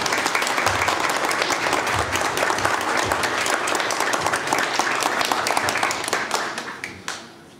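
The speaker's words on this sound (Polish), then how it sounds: "Jak podoba, to prosimy o dużo klasku" An audience at an evening of Lwów songs in a Częstochowa coin and medal museum gives sustained, dense applause that holds steady for several seconds before thinning out and fading into scattered claps.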